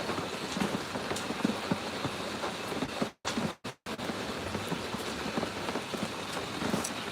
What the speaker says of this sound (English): Oh, it is starting to rain hard.